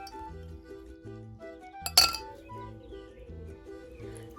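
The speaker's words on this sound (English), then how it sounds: "Add some ice cubes." A single sharp clink of ice cubes dropped into a glass of elderflower cordial midway, over soft background music.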